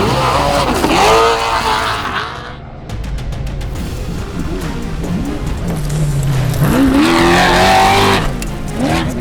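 A race car running flat out in qualifying roars loud and close, its engine note rising and falling through revs and gear changes, with tire noise and a brief dip before the engine surges again to full throttle.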